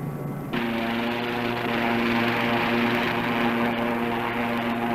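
An SRN5 hovercraft running over flat desert sand in 1964: a steady, loud engine and propeller drone with a strong low hum that swells in abruptly and then holds constant throughout.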